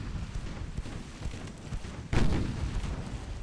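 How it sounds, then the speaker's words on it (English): Naval gunfire in the video game Ultimate Admiral Dreadnoughts, a low rumbling background of distant guns followed by one heavier boom of a shell hit that rolls on for a moment. "those new guns are definitely scoring hits a bit more often"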